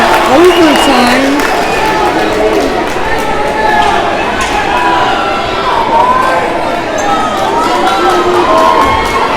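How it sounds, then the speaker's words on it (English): A loud crowd roars and cheers steadily at a high school basketball game between Toppenish and Ephrata as it heads into overtime, with a commentator talking over the dense, continuous noise. "And now the crowd is loud here."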